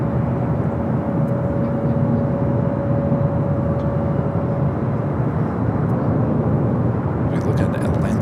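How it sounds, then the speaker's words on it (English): A Turkish Airlines jet on its takeoff roll down runway 25 right at Los Angeles airport, a steady broad roar heard from a distance with a faint whine, with some voices present. "Next takeoff on the south, now rolling down to 25 right."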